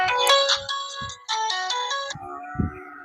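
A phone rings while a call is placed to a village member, its electronic ringtone playing in repeated bursts with short gaps, close and clear, with a brief low thump near the end.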